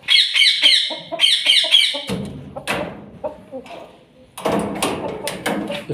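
A rooster squawks in a burst of loud, rhythmic calls, followed by a door or hatch shutting with a thud as it is shut in its coop, then rustling and clatter nearby.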